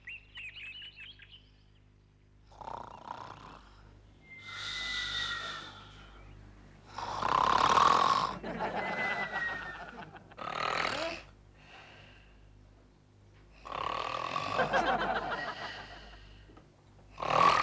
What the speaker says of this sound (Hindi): ये कितने जोर से खर्राटे भर रहे हो तुम?